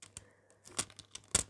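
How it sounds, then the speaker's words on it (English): Transfer foil being peeled off a nail tip gives a few faint, quick crinkling and tearing ticks in quiet surroundings. "once the foil is transferred, you can just easily peel it off"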